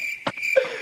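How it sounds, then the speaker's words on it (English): A cricket chirps in a short, fairly quiet burst with a thin sustained trill, heard alone without talk. "Crickets. Where's the crickets?"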